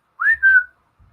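A person imitates a whistle once heard in the woods with a single close two-part whistle, rising then held and gently falling, alone and brief.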